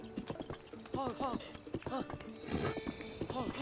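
Horse hooves clip-clopping steadily in The Legend of Zelda: Breath of the Wild, a quick rhythmic walking beat heard close, with someone talking over it.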